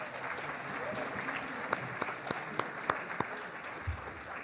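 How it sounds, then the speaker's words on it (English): An awards ceremony crowd claps steadily for several seconds, a sustained wash of applause with a few sharper individual claps standing out. "let's give her a round of applause"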